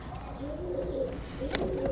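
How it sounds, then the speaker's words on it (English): Pigeons flapping and cooing close by as they swarm a person, a few soft coos over a steady rustle with a brief sharp burst of wing noise midway. "I'm legit being attacked by pigeons."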